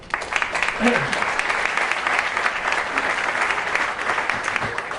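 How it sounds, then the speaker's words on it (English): Steady applause from a crowd, sustained clapping throughout with a few voices faintly mixed in. "So a round of applause for Mike."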